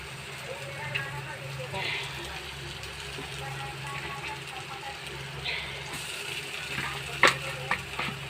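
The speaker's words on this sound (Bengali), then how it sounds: "আলুর পুরটা কিছুক্ষণ নাড়িয়ে নিই" Potato filling for samosas frying in a pan, a faint low sizzle with soft stirring scrapes and a sharp clink near the end, heard under a person talking.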